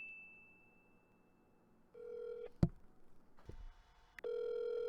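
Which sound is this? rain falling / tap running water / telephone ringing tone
telephone ringing tone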